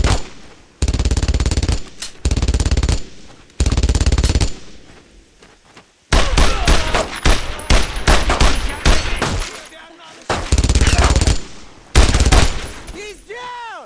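Bursts of machine-gun and rifle fire from a 1944 battle around St. Come-du-Mont rattle loudly in long volleys separated by brief pauses, with shouted voices mixed in among the gunfire.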